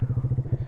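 A Honda Grom motorcycle with a big bore kit and cam idles just after starting, a close, loud, lumpy thumping exhaust pulsing steadily about a dozen times in under a second.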